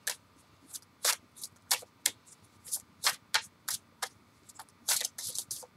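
Playing cards being handled and shuffled in quick, sharp clicks and riffles, irregular and close, with quiet stretches between the bursts.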